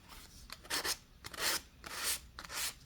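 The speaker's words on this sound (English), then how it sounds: "And I have my sanding block." A sanding block rubs across a die-cut paper heart with a white core in four or five close, raspy scraping strokes, each a short burst of hiss separated by brief pauses.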